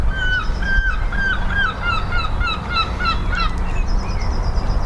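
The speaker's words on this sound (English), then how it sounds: "Birds singing." Birds calling outdoors, a run of repeated sharp descending chirps and honk-like notes over steady background noise, with a brief higher trill near the end.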